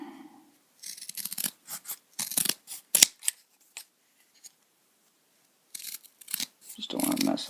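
Scissors cut through cardboard while a homemade T. rex model is being made: close, crunchy snips and rasping strokes in irregular bursts separated by quiet gaps, with brief voice sounds near the end.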